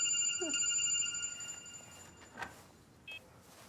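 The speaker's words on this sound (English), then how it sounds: "DCI Barnaby's phone." A telephone rings with a steady electronic tone and a short beeping burst, faint and brief, in a quiet room with no talk over it.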